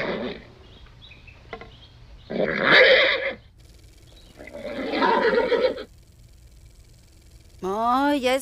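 A horse neighing in an animated Simpsons episode dubbed in Latin American Spanish: bursts of breathy noise, then a clear wavering whinny closing the clip.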